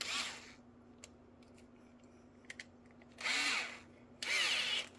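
A cordless drill spins in short bursts, two loud buzzing whirs late on after an earlier brief burst, separated by quiet clicks and handling noise over a faint steady hum.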